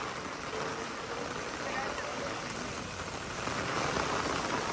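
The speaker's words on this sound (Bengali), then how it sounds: "আজকে দেখুন বৃন্দাবনে কি বৃষ্টি হচ্ছে" Heavy rain falls steadily in Vrindavan, with water running off a temple toward the Yamuna, making a dense, even hiss that swells slightly near the end.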